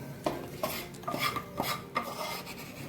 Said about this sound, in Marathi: हे सर्व आपण मिक्सरच्या भांड्यात घालूया